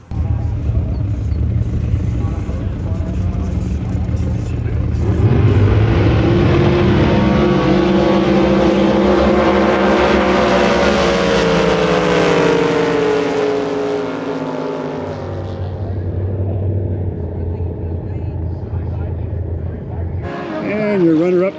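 A jet boat's engine roars loudly at a National Jet Boat Association drag race, rising and falling in pitch through a long pass before cutting off abruptly near the end.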